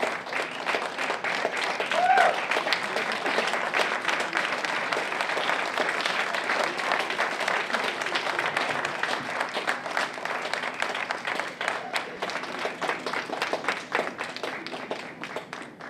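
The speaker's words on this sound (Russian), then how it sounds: "Конечно, ваши аплодисменты дебютантам первого чемпионата" A crowd at a 2013 Moscow tango championship applauds debutant dancers with sustained, even clapping that runs for about sixteen seconds, dense and fairly loud, with faint voices mixed in underneath.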